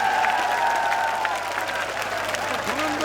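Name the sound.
rally crowd clapping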